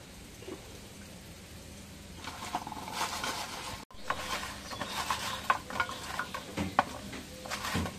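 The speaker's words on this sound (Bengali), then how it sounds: "এখন পটলগুলো দিয়ে দিই, দিয়ে মাখাই দিই" Pointed gourd pieces being mixed with chili powder, turmeric and salt, giving faint wet rustling and light clattering that picks up partway through, with uneven bursts of mixing and no talk.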